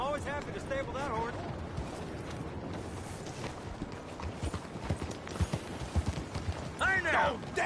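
Horse hooves clip-clop in a steady rhythm in the video game Red Dead Redemption II, alongside voices talking, with a brief whinny-like sound near the end.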